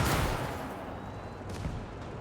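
A tank's main gun fires at an enemy tank's turret in the World War II game Gates of Hell: Ostfront, a broad, booming blast with a rumbling tail that stays loud across the short stretch.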